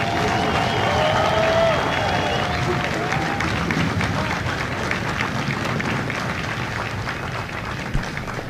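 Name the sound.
applause for the Marine company staff at graduation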